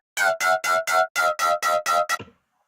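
Brostep bass synth patch built in iOZ and shaped with a parametric EQ, played as nine evenly spaced, punchy vowel-like growl stabs in a steady rhythm, the last one clipped short before a brief tail.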